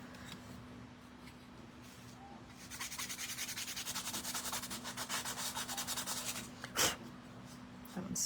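Hand sanding of a wooden Easter decoration, faint rhythmic rubbing strokes at close range that grow steadier and brisker in the middle, followed by a single soft bump.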